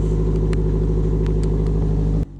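Car exhaust with Killer B equal-length headers gives a steady, loud low droning rumble with a flat, slightly raspy tone, holding constant before cutting off abruptly near the end.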